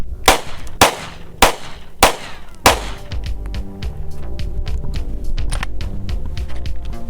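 Five concealed-carry handgun shots are fired at a target at a steady pace, each a sharp, loud crack with a short echo, followed by a busy rumble of range noise and distant shots.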